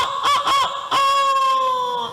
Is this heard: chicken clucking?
yes